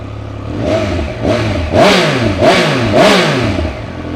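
Five quick, punchy revs of a Triumph Speed Triple 1200 RS motorcycle with standard exhaust rise and fall in close succession over a rough idle, loud and near.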